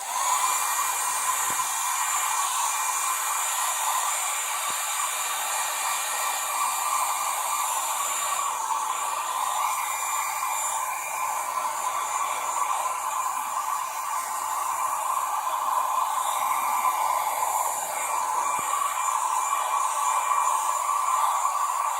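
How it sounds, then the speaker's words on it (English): A hair dryer blows continuously onto paper coloured with food colouring, a loud, steady whining whoosh that barely changes from start to finish. "my hairdryer is very noisy"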